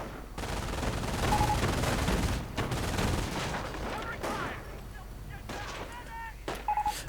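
MG 42 machine gun fire in a World War II strategy video game, sustained rattling bursts mixed with other battle noise, with short chirping alert tones near the end, no talking.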